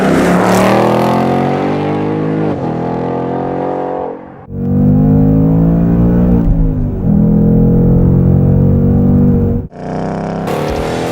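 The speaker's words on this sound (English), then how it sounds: "The 2019 Mustang GT convertible appears in Need for Speed Unbound." A 2019 Ford Mustang GT convertible's engine roars loudly in the Need for Speed Unbound racing game, revving up through rising pitches with brief drops between gear changes.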